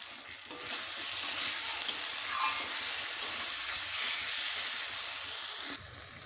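Potatoes with green chillies sautéing in oil for a Bengali rui fish curry, a dense even hiss of frying with a few faint clinks of stirring, steady from start to finish.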